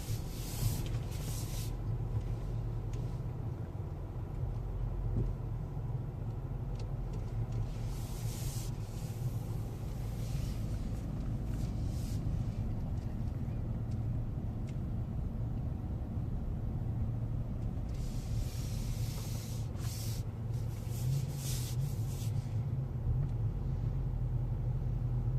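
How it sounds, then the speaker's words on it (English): Range Rover Evoque crawling over an off-road articulation ramp on a hill climb course, a steady low rumble of engine and tyres heard from close by, with occasional rubbing and scraping on top and no talk. "We'll get a good view of the Evoque, going over the articulations"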